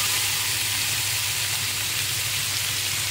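Ground turmeric and cumin frying with onion in a hot pan give a constant close sizzle, an even crackling hiss that holds steady throughout with no talk.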